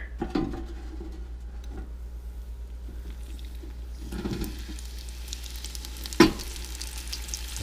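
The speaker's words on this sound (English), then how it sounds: "this is the utensil I use to drop these into the fryer" Pork egg rolls deep frying in a shop fryer give off a steady, soft oil sizzle and bubbling, with a few louder crackles and splashes along the way.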